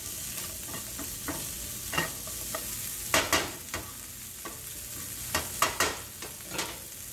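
Kidney beans for vegetarian tacos cook in a pan under a soft, steady sizzle, broken by repeated spoon scrapes and clacks that come in irregular bursts, louder around three seconds and near the end, with no voices.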